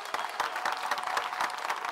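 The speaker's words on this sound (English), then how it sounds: "Clap it up, baby." A short burst of dense, brisk clapping from a small crowd, fairly close and steady for about two seconds with no talking over it.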